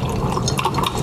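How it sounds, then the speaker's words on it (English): Liquid for a mint drink being poured into a container in a cooking show kitchen, a brief steady splashing, gurgling flow heard up close. "we are going to pour it in here"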